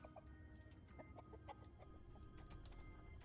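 Turkeys gobble and cluck in the video game Dungeons 4, a run of short bird calls repeating irregularly, faint and low in level against a steady background drone.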